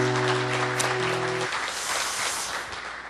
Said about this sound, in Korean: 박수 한번 주세요. 이럴 때 박수 치는 거죠.